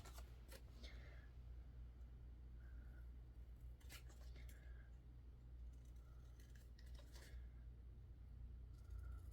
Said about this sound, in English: And we'll just fussy cut that out really quickly.